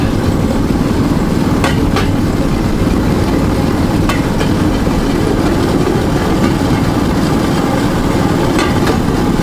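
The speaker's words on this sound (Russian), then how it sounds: "Классный стук колес" Loud, constant rumble of a draisine riding a narrow-gauge railway line at Mezinovka, with sharp periodic clacks as the wheels cross rail joints every couple of seconds.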